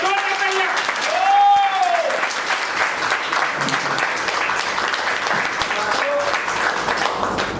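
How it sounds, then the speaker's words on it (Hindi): Loud, sustained crowd applause for the women at a business leaders' meeting, dense continuous clapping with a few shouts and whistles rising above it. "लोग हमारे महिलाओं के लिए एक बार जोरदार ताली बजाएं"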